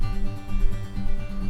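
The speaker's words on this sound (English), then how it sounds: "If I turn off the effects on the guitar, it sounds like this." Heavy low-register guitar chords with effects switched off pulse in a short rhythmic pattern, thick and bass-heavy, loud and alone with no voices.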